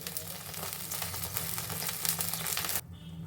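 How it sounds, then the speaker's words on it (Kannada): Rava laddu mixture bubbling in hot ghee on a stove, a close steady sizzle and crackle that holds evenly and then drops off sharply just before the end. "ಈಗ ಇದು ಚೆನ್ನಾಗಿ ಕುದೀತಾ ಇದೆ"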